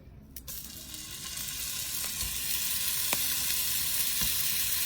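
Seasoned venison tenderloin from a whitetail deer sizzles steadily in a hot pan, a continuous close frying hiss with occasional faint pops and stirring scrapes, no one speaking.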